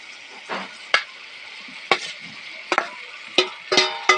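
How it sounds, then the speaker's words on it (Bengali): Fried okra and potatoes are stirred into a spice masala in a pan, with a soft sizzle under a series of close, irregular utensil scrapes and clatters. "একটু নাড়ি ছাড়িয়ে নেবো।"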